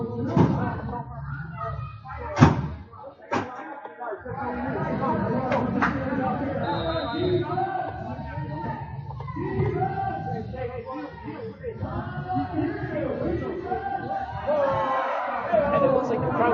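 Crowd chatter and cheering at an indoor soccer match between Arizona Impact and Colorado Inferno, a steady murmur with sharp slams and thuds, under continuous commentary.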